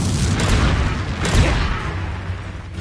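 The Confringo fire spell explodes in the video game Hogwarts Legacy, a loud booming burst with a rumbling tail that swells briefly and then fades over a few seconds.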